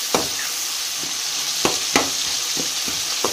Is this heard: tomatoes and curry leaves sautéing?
yes